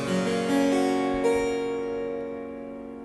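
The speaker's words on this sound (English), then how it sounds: "The lower manual plucks 1 set of strings and sounds like this." Harpsichord lower manual plucking a single set of strings, a few bright plucked notes in succession ringing out and slowly decaying, alone with no talk.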